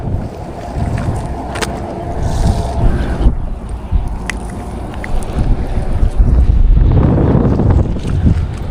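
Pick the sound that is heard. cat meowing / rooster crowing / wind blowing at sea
wind blowing at sea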